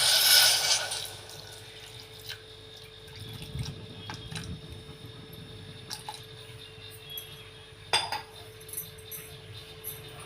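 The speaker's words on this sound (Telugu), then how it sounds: "అది కరగడానికి సరిపడా నీళ్ళు" Water poured into a pan of grated jaggery on a stove, a brief splash at the start followed by faint drips, small clinks and quiet handling sounds.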